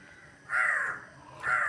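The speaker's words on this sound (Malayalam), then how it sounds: "ഈ കാക്ക കുറക്കൂല്ല എന്നാ തോന്നുന്നത്" A crow caws twice nearby in the early morning, two harsh, drawn-out calls separated by a short pause against a quiet background.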